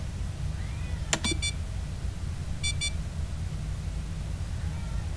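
Electronic beeps from a lure drone attacking in the video game Duskers: a quick burst of stacked high chirps, then a second shorter burst, over a steady low machine hum.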